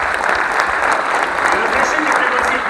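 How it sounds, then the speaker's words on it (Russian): A large audience at the opening of the first oil and gas forum of the Sakha Republic (Yakutia) claps loudly and steadily in a continuous burst of applause. "давайте еще раз бурными аплодисментами поздравим друг друга с началом первого нефтегазового форума Республики Саха-Якутия"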